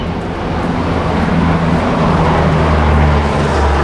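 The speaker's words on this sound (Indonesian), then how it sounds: "sekarang pesawat TNI guys. Gede pesawatnya." A large Indonesian military Hercules aircraft flies overhead, a loud, steady low drone that fills the whole stretch without pause.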